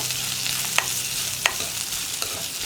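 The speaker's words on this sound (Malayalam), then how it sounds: "ഇനി സവോള ഒന്ന് ട്രാൻസ്പെറൻ്റ് ആയി വരുന്നത് വരെ ഒന്ന് ഇളക്കി കൊടുക്കുക." Sliced onions sautéing in a pan for a Kerala brinjal curry, a soft steady sizzle close by, with a few sharp scrapes and taps of the stirring spoon against the pan.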